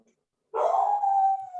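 A dog sounds off in the background of an online class call, a single drawn-out howling or whining cry lasting about a second, fairly clear and with no talk over it.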